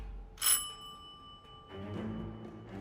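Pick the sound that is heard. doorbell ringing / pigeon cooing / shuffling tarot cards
doorbell ringing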